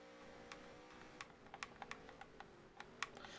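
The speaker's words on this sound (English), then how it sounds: "I apologize if you guys hear my controller clicking more than usual." Game controller buttons click in quick irregular bursts, sharp small taps scattered over a faint steady background hum during a NASCAR Heat 3 racing session, with no talking.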